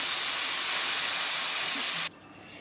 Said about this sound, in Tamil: நம்ம இப்போ கரைச்சி வச்சுக்கிட்டா புளி தண்ணியை வந்து சேர்த்துக்கணும்